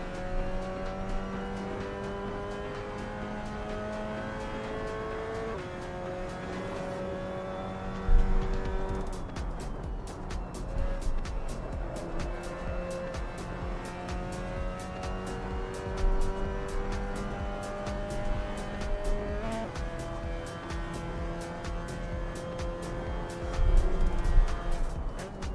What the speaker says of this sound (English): The rumbling noise is getting high pitch.